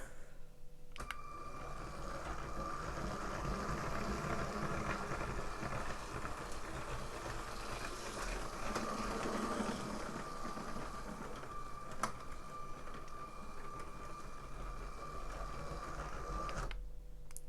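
A small motorised Lego train whirs steadily along its track, a continuous mechanical hum with faint clicks, starting and stopping abruptly near the ends.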